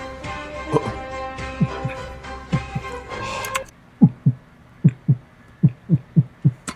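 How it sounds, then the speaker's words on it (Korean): A Minecraft heartbeat sound effect thumps in a steady rhythm of paired beats, first partly covered by other game sound, then clear and alone. "심장 소리였는데"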